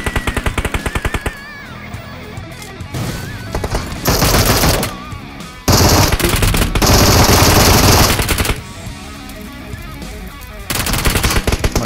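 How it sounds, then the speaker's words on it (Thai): Rapid automatic gunfire from PUBG Mobile, loud and close, coming in long sustained bursts separated by short gaps, with dense rattling volleys throughout and no talk over it. "มีคนหลังยิงมา"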